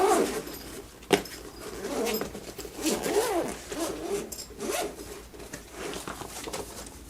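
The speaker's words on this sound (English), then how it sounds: "It's got two zippers here. So go ahead and open it up" Zippers on a carry bag for a motorized video slider are pulled open in several long, close rasping strokes, with a sharp tug and soft handling rustles between them.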